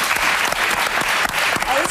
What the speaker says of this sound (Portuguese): uma salva de palmas para o André